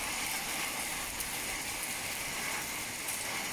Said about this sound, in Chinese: 然后听到这种雨声哗哗的下起来了，下大了。